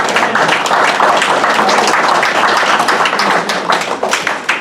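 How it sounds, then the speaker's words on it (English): Loud, dense applause from attendees at a borough council meeting in Munhall, continuous clapping that holds steady, then thins slightly toward the end. "I'd like to give Dave a round of applause for what he has done for our"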